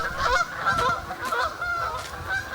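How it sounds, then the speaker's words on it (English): Several geese honk repeatedly at Nene Valley Gravel Pits, their nasal calls overlapping at a moderate distance over a soft outdoor background. "Here come some geese now!"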